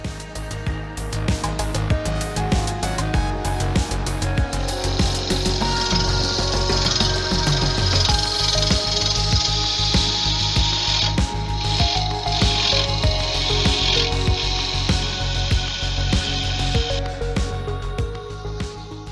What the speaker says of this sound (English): I'm going to tidy it up with the parting tool